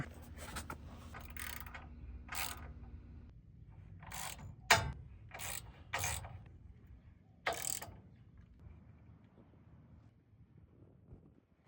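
Ratchet tightening light mounts on a custom bumper for a 1957 Chevy truck, giving several short bursts of metallic clicking spaced through the clip, close and fairly loud, with faint wind in the background.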